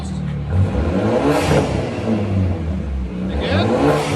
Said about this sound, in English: It's turbo. You can hear the blow-off valve.